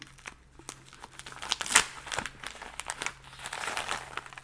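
A mail package from France being opened by hand, close crinkling and tearing of packaging with one sharp rip in the middle and softer rustling around it.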